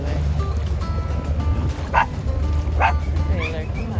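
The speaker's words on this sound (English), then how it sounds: "I know, another dog. Yeah, you hear him." Dog on a boat in Banderas Bay barking and yipping, a couple of sharp bursts standing out over a steady low rumble of boat engine, with some faint voice-like sound in the background.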